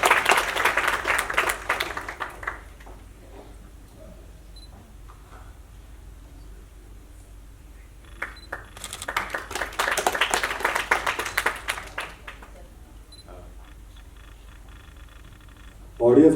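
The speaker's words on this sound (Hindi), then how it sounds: "ऑडियंस इतनी समझदार है, तालियां खुद ब खुद बजा रहे हैं।" Audience applause at an arts foundation-day cultural programme in Shimla, with bursts of clapping near the start and again in the middle, separated by quieter hall ambience and a sharp sound at the very end.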